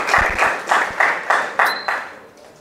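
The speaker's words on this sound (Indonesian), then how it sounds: "Tepuk tangan buat Mas Nafis." Audience at a university public lecture claps in a few loose, rhythmic bursts, about seven distinct beats that fade toward the end, close and fairly loud.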